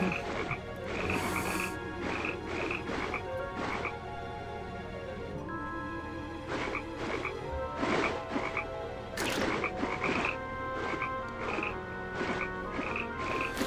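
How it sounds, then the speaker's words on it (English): Frogs croak in the Endless Ocean video game, a steady run of repeated croaks on a continuous watery ambient bed, loud and close throughout, with no talk over them. "So since I'm eating frogs, am I like going inland now?"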